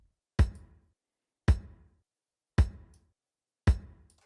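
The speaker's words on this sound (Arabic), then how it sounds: "وده صوت الكيك لوحديها من غير أي process." An unprocessed kick drum for an Eastern rhythm struck alone four times at an even, slow pace, each hit a clean, punchy thump with a short decay into silence.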